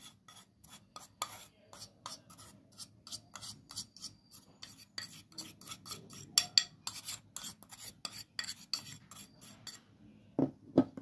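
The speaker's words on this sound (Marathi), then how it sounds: "आणि आपण हे फेटून घेऊया।" Fresh cream and milk powder whisked in a bowl, giving a steady run of quick, scraping strokes with soft clinks, fairly close and with no talk.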